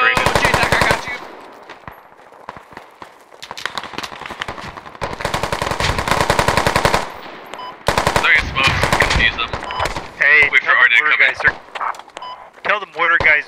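Video game gunfire in a military shooter, with several bursts of rapid automatic fire separated by quieter gaps and voices talking over the shooting.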